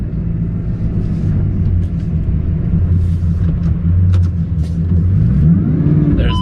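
A car's engine pulls hard under full throttle on a cold day with slight traction loss, a loud, steady rumbling drone that rises in pitch across the run, with a brief shift near the end and no talk.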